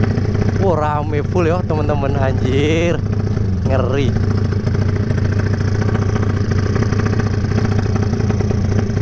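Tiger 300cc motorcycle engine running at steady idle with rough, throbbing clatter, close and loud throughout, under excited talk from a crowd gathered around it.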